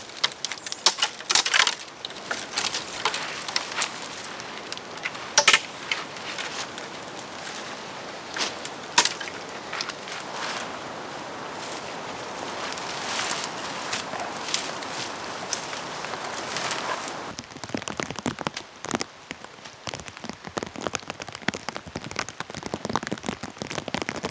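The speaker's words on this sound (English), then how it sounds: "The rain is picking up, so I wait it out underneath my shelter." Rain pattering on a makeshift survival shelter in an autumn forest, a dense steady patter with scattered louder drips and taps, close by and continuous, without speech.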